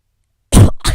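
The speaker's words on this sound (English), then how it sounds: "I coughed." A close, loud cough comes out in two quick harsh bursts with a brief gap between them, following a second of silence.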